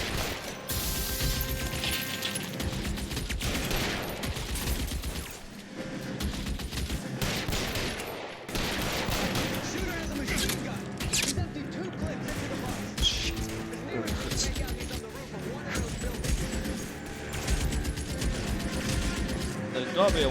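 BAR automatic rifle firing in the L.A. Noire video game, dense bursts of gunfire and mechanical clatter running throughout, loud and continuous with a voice talking over it.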